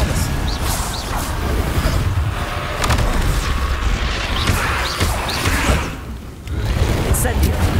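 Expelliarmus disarming spell in the video game Hogwarts Legacy, amid a busy battle of loud booms, crashes and thuds, with voices talking over the combat.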